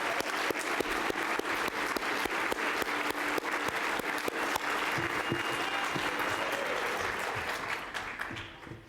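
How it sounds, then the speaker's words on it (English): Sustained audience applause at a real estate competition night, dense steady clapping from a large crowd for about eight seconds before thinning out and fading at the end. "Let's give all of them a big round of applause."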